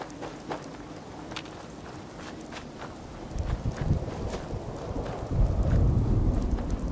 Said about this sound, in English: I was going to say it stopped raining, but it's still raining.